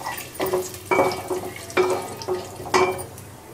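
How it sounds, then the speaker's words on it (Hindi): Whole cumin and bay leaves hit hot oil in a home kitchen pot for matar pulao, giving a steady sizzle broken by several louder scraping, stirring bursts at uneven intervals, with no voices. "तो ये देखिए, ऑयल गरम हो चुका है, तो इसके साथ ही ये मसाले खड़े डाल देंगे।"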